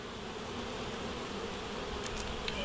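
Honey bees buzz in an open beehive while frames are being worked, a dense, steady drone close by that runs unbroken throughout.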